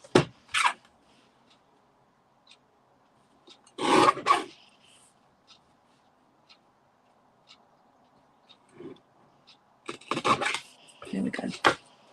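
Paper card is trimmed for a handmade card in a few brief, close rasping strokes, with a longer scrape near the middle and a cluster of strokes at the end, separated by near silence.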